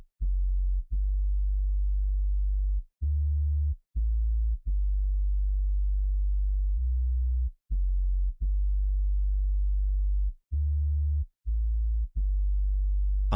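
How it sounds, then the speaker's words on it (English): Synthesized sub bass for a future house breakdown, a deep, steady low tone played in long sustained notes separated by short gaps, with a few brief stabs, loud and alone throughout. "A sub bass with the same effects as the one in the intro."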